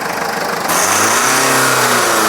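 A Sprinter van engine with almost a million miles and an exhaust leak revs up loudly, rising from a rough idle into a sustained droning roar heard close.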